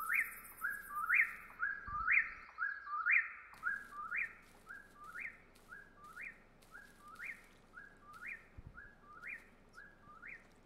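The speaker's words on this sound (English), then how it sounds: "It's really loud when you find the bird origin spot." A game bird in Russian Fishing 4 repeats a bright, rising two-part whistled call about a dozen times in a steady rhythm, fairly close and clear, with no talking.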